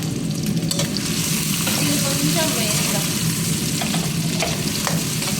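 Green chillies and onion fry in a pan in a steady, close sizzle, with stirring scrapes and clatters of the spatula breaking through now and then, and a voice faintly present underneath.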